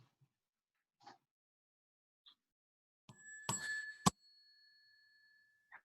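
A small bell is struck once or twice, a clear bright ding that rings on and fades in a quiet room, after faint scattered knocks and movement.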